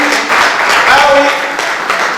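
Audience of Ivorians living in Italy applauding at a community meeting, a dense, steady wash of clapping filling the whole stretch, with voices mixed in.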